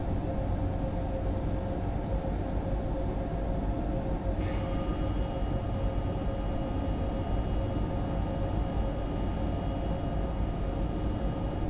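A train accelerating in Train Sim World 6, a steady low rumble of wheels and motor drone holding at an even, moderate level throughout, with a brief faint squeal partway through.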